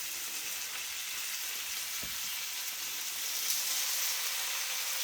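Bacon frying in a pan gives a steady, close sizzle with constant crackling hiss that runs evenly throughout and swells slightly near the end, with no voices.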